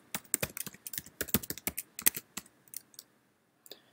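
Rapid irregular clicking of computer keyboard keys as a password is typed at a terminal, a quick burst of keystrokes that slows and thins out toward the end, close and clear with no talking.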